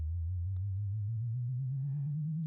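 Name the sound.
low sine wave layer of spaceship engine sound in asteroid video game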